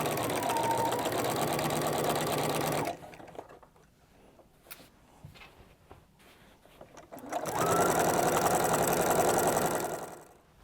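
A sewing machine runs at steady speed while stay stitching a quilt-as-you-go Christmas tree skirt. The loud whirring hum stops for a few seconds of quiet handling noise, then starts again. Nobody talks.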